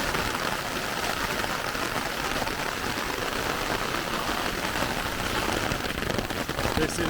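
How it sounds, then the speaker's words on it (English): Torrential downpour on a Singapore street, a dense, steady roar of heavy rain pelting hard surfaces close by, unbroken and loud for the whole stretch with no voices. "This is some seriously torrential weather."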